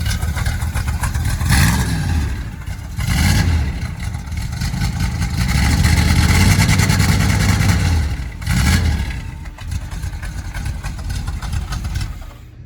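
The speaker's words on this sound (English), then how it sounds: "Give it a rev." A car engine runs close by, revved up and down in several swells over a rough idle, loud and continuous with no talk.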